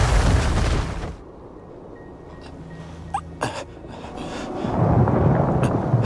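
A war-film explosion effect opens with a heavy, roaring blast that cuts off abruptly, followed by quieter debris thuds and a short crack before a second rumbling surge swells near the end.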